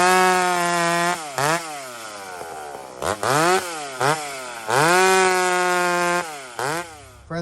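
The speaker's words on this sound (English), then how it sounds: "Tin Man, listen to your saw. Listen to it. This is big freaking wood, guys" A chainsaw, either a modified STIHL MS362c or a McCulloch Pro Mac 850, cuts through large logs. The engine screams loud and close at full revs, dips under load, and repeatedly bogs and revs back up.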